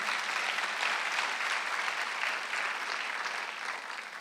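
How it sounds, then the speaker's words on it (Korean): A church congregation applauds steadily during a Sunday service, a dense wash of many hands clapping at an even level that eases slightly toward the end. "박수 세게 치세요"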